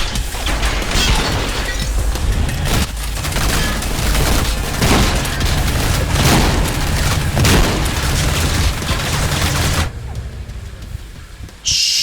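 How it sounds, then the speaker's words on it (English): Video game grenade explosions in Trepang2 form a dense, loud run of booming blasts and crashing debris over constant gunfire, then cut off abruptly near the end. "I've actually got lots more grenades for you."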